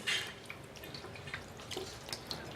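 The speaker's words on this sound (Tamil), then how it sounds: "நல்லா பச்சை தண்ணியில் அலசிடுங்க" Small drips and light splashes of cold water come close and intermittently as homemade paneer, curdled with lemon, is rinsed by hand in a kitchen, with no talking.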